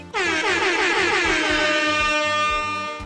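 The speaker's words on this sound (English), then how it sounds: "Oh, wait, I got an air horn," A loud, sustained air horn blast sounds alone for about three seconds, steady from start to finish before trailing off slightly at the end.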